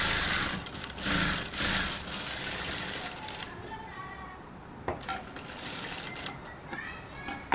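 A sewing machine top-stitches the neckline of a blouse, a close mechanical whir with rapid needle ticking that runs for several seconds and then gives way to intermittent clicks and fabric handling.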